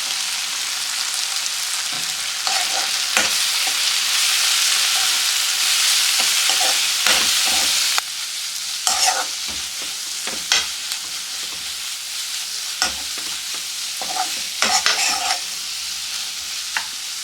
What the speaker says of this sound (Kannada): ಈಗ ಇದನ್ನು ಹಾಕ್ಕೊಂಡು ಎಣ್ಣೆಯಲ್ಲಿ ಫ್ರೈ ಮಾಡ್ಕೊಳ್ಳೋಣ